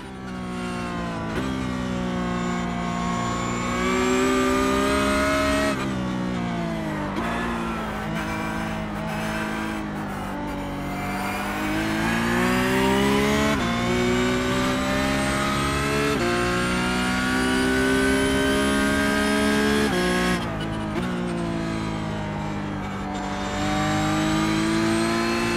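Race car engine in a motion-rig driving simulator on cold tires, revving hard and loud through gear changes with pitch sweeping up and down as the car exits corners, continuous and close, no voices.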